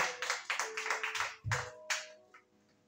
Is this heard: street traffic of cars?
no